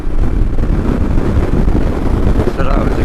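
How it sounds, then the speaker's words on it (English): Heavy wind buffets the microphone in a loud, continuous low roar, gusting steadily throughout. "Whoa, it's a bit windy today"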